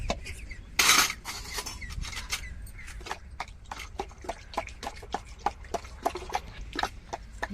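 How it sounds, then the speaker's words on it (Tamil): A ladle beats and stirs watermelon juice with nannari syrup in a vessel, giving a quick run of sharp, close metallic clinks and taps over a faint liquid swish, with one louder splashy scrape near the start. "கரண்டியை வச்சு அடிச்சு விட்டுக்குருவோம்"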